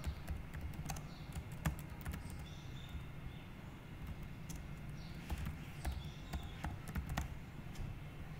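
Typing on a computer keyboard while entering footer text in a Microsoft Word document gives a steady patter of light key clicks, close and fairly quiet, with no speech.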